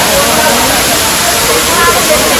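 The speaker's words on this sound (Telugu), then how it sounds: "ఇదే రంపచోడవరం వాటర్ ఫాల్స్" Broadband roar of the Rampachodavaram waterfall near Maredumilli, a steady loud rush of falling water filling the whole clip without pause.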